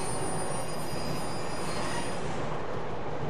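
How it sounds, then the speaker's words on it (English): A metro train in the Urban Chaos: Riot Response video game rumbles along the tracks with a steady, dense roar and faint high wheel squeal, loud and continuous throughout with no voices. "Looks like we've got another train coming up behind us."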